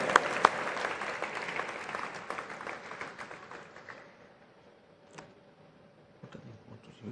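An audience applauds at an award ceremony at the IFFI film festival, steady clapping that fades away midway, leaving a few scattered claps afterward.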